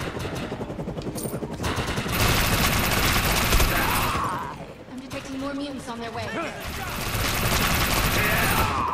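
Gunfire from Defiance rattles in dense bursts of rapid shots, loud and near, broken by short pauses, with a voice talking over the shooting and game effects.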